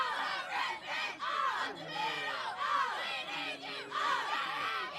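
Loud shouting and cheering from the dugouts at a varsity high school softball game, a dense, continuous wash of voices rising and falling in waves throughout.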